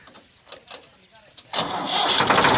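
A 2017 Massey Ferguson 260 tractor diesel engine cranks briefly, then fires and settles into a loud, steady idle, up close, with someone talking over the start.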